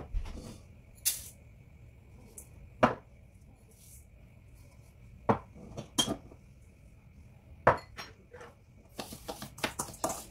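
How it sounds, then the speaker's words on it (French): A spoon stirs bulgur and semolina in a bowl, giving sparse, sharp clinks against the bowl at irregular moments over a quiet background, with no voices. "J'ai donc mélangé le boulgour et la semoule."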